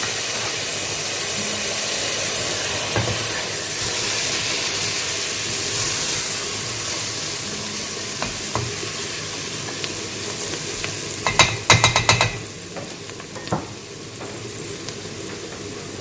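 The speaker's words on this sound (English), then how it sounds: "Give that a quick stir." Lemon juice is stirred into a hot pan while cooking South African bobotie, giving a steady frying sizzle and hiss throughout, with a short burst of scraping and clatter from the stirring near the end.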